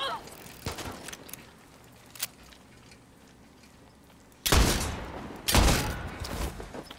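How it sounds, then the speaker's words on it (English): A shotgun fires in the first-person shooter Far Cry 6. Two loud, close blasts sound about a second apart after a stretch of quieter in-game ambience and scattered sounds, with some talking. "Oh, is this like a shotgun?"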